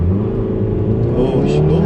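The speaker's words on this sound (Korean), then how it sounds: "이번에는 스포츠 모드로 바꾸고, 네. 자, 다시 한번 가속해 보도록 하겠습니다." A Renault Samsung SM6 2.0 accelerates hard in sport mode on a slightly slippery road, its engine note loud and steady from inside the cabin and rising in pitch, with a brief wheelspin.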